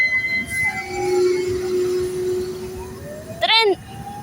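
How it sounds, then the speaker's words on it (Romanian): A train passes at Neptun, with a long steady tone and a brief burst of high squealing wheels near the end, heard at moderate distance over a low rumbling background. "Asta e un tren"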